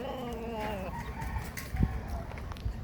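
A rooster crows nearby, followed by scattered clucking from several chickens, fairly close and moderately loud with no talking.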